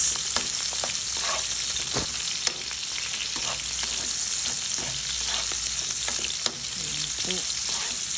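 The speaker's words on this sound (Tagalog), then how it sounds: "mag-upisa na tayo mag-upisa ng sibuyas" Onions sauté in a pan as the start of mung beans with shrimp, making a dense, constant sizzle up close, punctuated by sharp clicks and scrapes of a utensil stirring against the pan.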